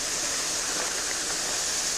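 The Lost River at Natural Bridge, Virginia, runs unseen through a dark cave, giving a steady, dense rushing hiss of flowing water, constant and moderately loud with no voices.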